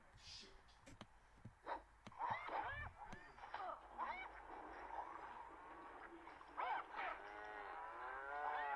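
Cows in the video game Survival Craft moo repeatedly as gameplay sounds play. The calls are long and warbling and overlap one another, and a few sharp clicks and thumps come through early on.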